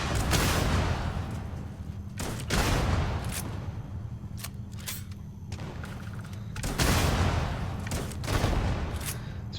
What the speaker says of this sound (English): time to break out the big guns. The Wrecking Ball. This is that grenade gun I was telling you about.